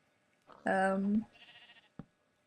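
Sheep in the Minecraft video game give one clear, loud bleat, followed by a quieter rustle and a short click.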